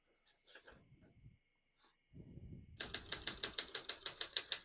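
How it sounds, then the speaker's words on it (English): Typing on a 1968 Olympia SM9 portable typewriter, a rapid, even run of sharp key strikes following some faint handling sounds and a quiet voice. "We're going to keep that on single for now and finish typing."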